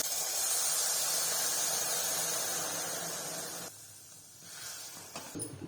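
Boiling water poured into pan-roasted rava (semolina) for kesari gives a loud, broad hissing sizzle that steadily fades, drops off abruptly near the end and leaves a quieter bubbling with a few small clinks.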